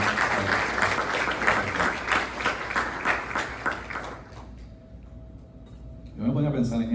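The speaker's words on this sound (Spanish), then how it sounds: "¿Cuántos pueden darle un aplauso al Señor por eso?" A church congregation applauds during a sermon, a dense burst of clapping for about four seconds that then fades, followed by someone speaking.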